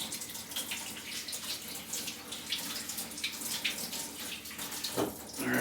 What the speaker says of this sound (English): Wash my fingers.